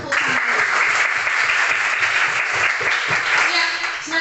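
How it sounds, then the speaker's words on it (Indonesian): Classroom applause for student group B after their presentation, a short burst of brisk clapping from a roomful of students with a few voices mixed in, steady and fairly close. "berikan tepuk tangan."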